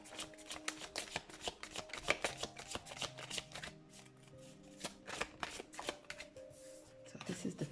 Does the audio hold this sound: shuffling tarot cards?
yes